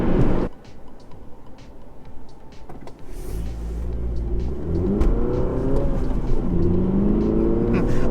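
A 2017 MINI John Cooper Works pulls away hard from a standstill, its engine note rising steadily and loudly over several seconds with a whirring rev climb, close by, with some speech underneath.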